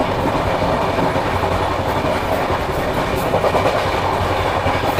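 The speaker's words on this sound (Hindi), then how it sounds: "कालिंदी एक्सप्रेस इतनी रफ्तार में चल रही है" The Kalindi Express passenger train runs at speed, heard from inside a 3rd AC coach as a steady, loud rolling roar with rhythmic clickety-clack of wheels over rail joints, and no talking.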